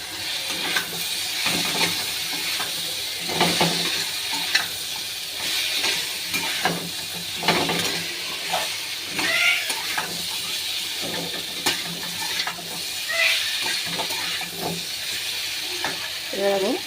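Potatoes and pointed gourd sizzle and hiss steadily in a hot pan with tomato, broken by repeated stirring scrapes and clatter at close range.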